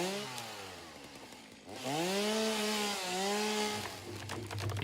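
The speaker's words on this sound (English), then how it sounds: "Yeah, chainsaw simulator now." Chainsaw in the video game Satisfactory revving and cutting through wood, a loud buzzing whine that rises in pitch, dips and climbs again as the blade bites, close and continuous.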